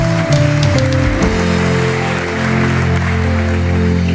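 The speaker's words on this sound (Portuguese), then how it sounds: "Você pode aplaudir a Jesus por isso junto comigo?" A church congregation claps together during a service, a dense patter of hands under sustained low musical tones from instruments, with no voices on top.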